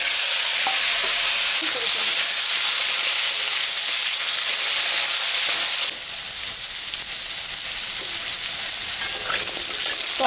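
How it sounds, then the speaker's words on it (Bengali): Papaya curry frying in oil over a cumin and dried-chilli tempering while being stirred in a pan, a steady, dense sizzle and hiss running continuously at close range with no talk. "তরকারিটা ভাজা ভাজা হয়ে গেছে।"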